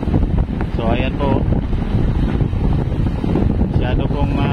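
Wind buffets the microphone as a boat moves over choppy water off Dilasag, Aurora, ahead of a typhoon, with a steady engine-like rumble and a person talking intermittently over it.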